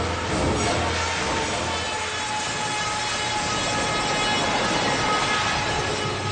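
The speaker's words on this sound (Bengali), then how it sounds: "ট্রেনের আওয়াজ আসছে কিন্তু কিন্তু ট্রেনকে দেখা যাচ্ছে না।" A train passes unseen nearby, a steady loud rumble with broad rail noise holding for the whole stretch, no voices over it.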